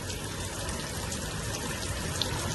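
Heavy monsoon rain pelts down in Pandesara, Surat, a constant close wash of drops and splashing water with a few sharper patters on top.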